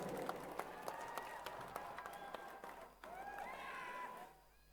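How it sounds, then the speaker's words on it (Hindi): Audience applause for the chief minister at the Rajasthan Innovation and Startup Expo, a steady crowd clapping with scattered sharp claps and brief cheers, fairly distant and sustained for several seconds. "people put your hands together and जोरदार शोर और तालियों के साथ स्वागत कीजिए"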